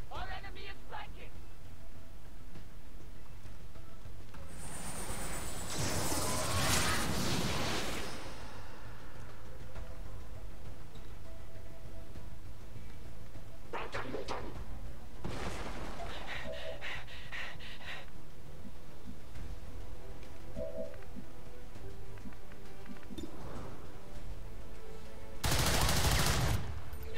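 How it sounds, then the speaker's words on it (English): Gunfire in XCOM: Long War of the Chosen as a squad takes heavy fire, with several separate bursts spread across a noisy game soundscape and a voice talking underneath. "Taking heavy fire"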